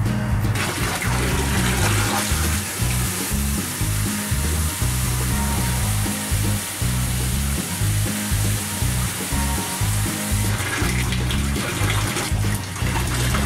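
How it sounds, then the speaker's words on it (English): Fresh water gushes into a tank holding rainbow trout. The rush is loud, close and continuous, with bubbling churn throughout and no talk. "I'm just gonna give them some extra clean water here in a second"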